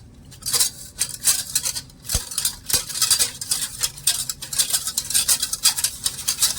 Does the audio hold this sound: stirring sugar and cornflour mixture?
yes